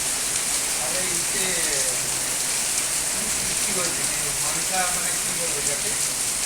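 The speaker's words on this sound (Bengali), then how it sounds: "উঠে গিয়ে দেখো কি পরিমাণে বৃষ্টি হচ্ছে" Steady, dense rainfall from a depression storm hisses close by, a continuous heavy patter with no pauses, and faint indistinct sounds flicker underneath.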